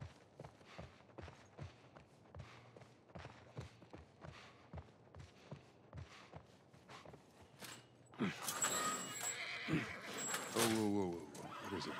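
A horse neighs loudly near the end, following a stretch of steady hoofbeats, with people talking quietly throughout, in The Last of Us Part I.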